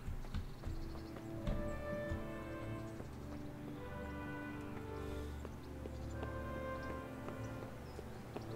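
Steady clip-clopping hooves of a horse at a walking pace in Kingdom Come: Deliverance, close by, with a faint whinny and rustling over a low ambient drone.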